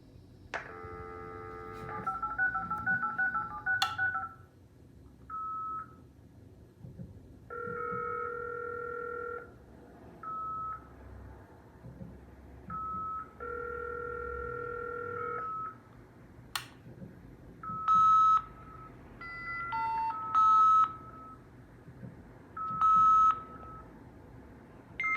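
An Avtek Flash Modem 288 V.34 dials out and tries to connect, producing a sequence of DTMF dialing tones and steady beeps in short bursts, fairly clear and alone with no talk.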